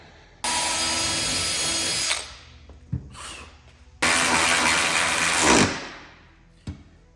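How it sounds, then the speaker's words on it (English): A power drill whines loudly in two long bursts while drilling holes into a carbon fiber diffuser on a BMW E60 M5, a quieter pause between them, with small clicks and knocks around the bursts. "now we'll drill another hole on the other side"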